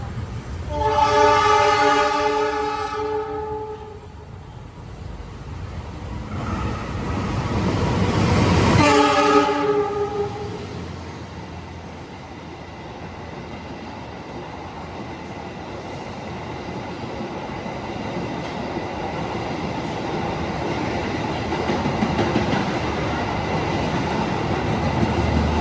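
A Gaya Baru Malam Selatan economy train on the rails sounds two long horn blasts, then a steady rumble of wheels and carriages rolling on, loud and continuous.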